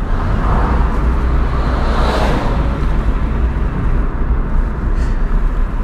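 A 2004 all-wheel-drive Mitsubishi Outlander salvage car with its engine running, a loud, steady low rumble with broad rushing noise that holds level throughout.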